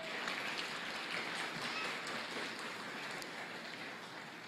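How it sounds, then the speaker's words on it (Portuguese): A church congregation applauds continuously, a soft, distant patter of many hands clapping that holds steady from start to finish. "dá uma salva de palmas e aplaude para valer"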